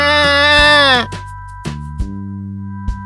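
Goat bleat from a children's animal-sounds learning toy, one loud wavering cry that cuts off after about a second, followed by sparse toy music notes.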